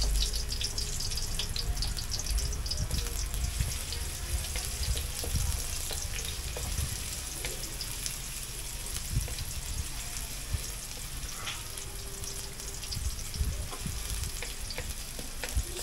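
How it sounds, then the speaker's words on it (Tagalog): Garlic, onion and ginger sautéing in a pan for chicken pochero give a dense, continuous close sizzle with scattered stirring clatter throughout, steady and moderately loud, no talking. "So, i-shimmer muna natin lahat. Bawang, sibuyas, tsaka yung luya."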